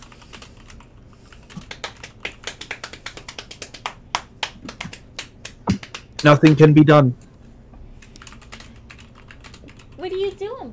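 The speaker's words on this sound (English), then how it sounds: "Oh, you're typing." Typing on a computer keyboard during a Civilization VI game session, with quick irregular bursts of clacking keys close by and people talking between them.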